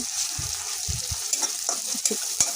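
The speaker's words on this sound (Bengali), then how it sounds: "রসুন বাটাগুলো দিয়ে একটু ভালো করে নাড়াচাড়া দিয়ে নিব" Garlic paste sizzles and fries in a pan as it is stirred, a steady broadband hiss broken by a few sharp spoon scrapes and clicks near the end, with no voices.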